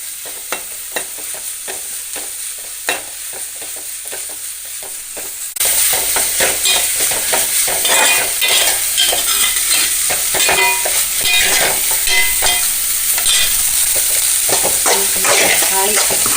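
Long beans with crushed dried red chili hit a hot pan, a quiet stretch giving way to a sudden loud, dense sizzle and crackle that continues with stirring scrapes until the end.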